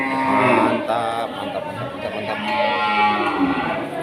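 Cattle, including large Limousin bulls, at a busy Aceh livestock market, with lowing mixed into a dense crowd murmur and nearby chatter throughout.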